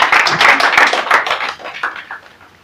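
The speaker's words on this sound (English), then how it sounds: "Let me clap your hands together again for her." A seated audience bursts into brisk, loud hand clapping, a dense burst of many claps that thins out and fades over a few seconds.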